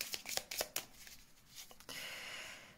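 Tarot cards being shuffled and drawn by hand: a quick run of crisp riffling snaps, then softer sliding and rustling as cards are laid out, close and fairly quiet with no talk.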